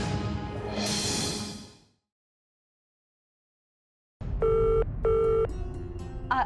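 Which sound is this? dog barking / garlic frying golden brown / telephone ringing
telephone ringing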